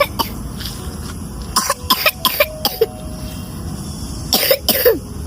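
A pet cat gives a series of dry, hacking coughs in short clustered bursts, some in quick pairs, then a final longer fit, close and fairly loud against a quiet room.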